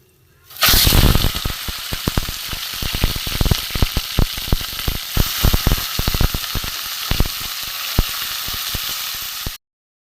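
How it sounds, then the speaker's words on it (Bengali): Lotte fish (Bombay duck) frying in hot mustard oil gives a loud, steady sizzle with dense crackling pops and spits throughout, close up and with no one speaking. "লোটে মাছগুলো আমি ভেজে নেবো"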